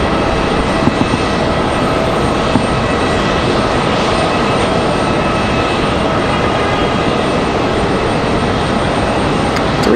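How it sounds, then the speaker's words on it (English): An aircraft touching down on the runway at Raleigh Durham International Airport, a loud continuous roar of engines and rolling noise that holds steady for several seconds, with no talk over it. "Bel Air from Aspen touching down."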